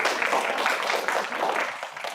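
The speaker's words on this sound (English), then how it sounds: "We'll do an applause that you made it to Brisbane." An audience at an evening yoga program in Brisbane breaks into steady, continuous applause, a dense wash of many hands clapping throughout.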